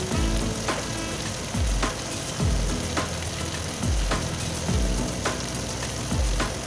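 In a pan, a spice paste of turmeric, ginger, garlic, onion, tomato and dried chilli fries with jackfruit and potato, giving a steady sizzle broken by periodic scraping stirs.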